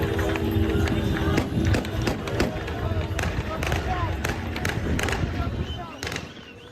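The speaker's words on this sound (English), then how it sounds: "The gunfire there in celebration as rebel supporters cheered in the streets" Celebratory gunfire and cheering in Syrian streets as rebel supporters take control of Damascus: a dense, continuous crowd roar broken by repeated sharp cracks and bursts of shots, with voices throughout.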